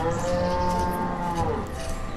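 Cattle lowing in the Banished village-building game, one long drawn-out moo that holds steady for the whole stretch and then slowly falls away, fairly loud with no talk over it.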